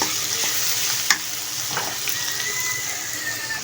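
Homemade pasta with potato frying in a pan, a steady hiss of sizzling oil with a few brief scrapes of stirring, close and continuous with no voices.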